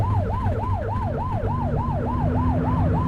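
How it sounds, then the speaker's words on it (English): A police car siren in the video game The Precinct wails in a steady, rapid rising-and-falling cycle, loud and close over a low engine rumble, with no talk. "Get behind them and blip the siren and make them pull over."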